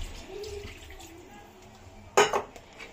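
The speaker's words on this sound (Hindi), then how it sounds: "अब मैं इसमें पानी ऐड करूँगी।" Water is poured into a pan of fried black Kadaknath chicken, landing in a sudden loud splash and sizzle with a clatter of cookware, after quiet kitchen sounds.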